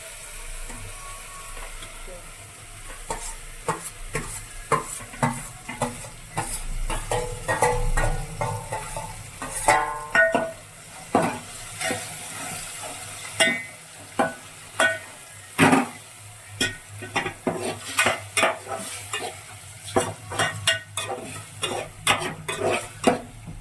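Pasta tossed and stirred in a pan over a steady fry hiss, with repeated sharp scrapes and clacks of a utensil against the pan in an irregular rhythm, close and fairly loud.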